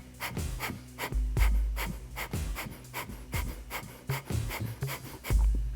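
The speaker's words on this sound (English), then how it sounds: "work your stretch pose here with the breath of fire" Rapid, rhythmic breath of fire in a Kundalini yoga stretch pose: quick, forceful nasal exhalations pulsing steadily about twice per second, close and distinct, with soft music underneath.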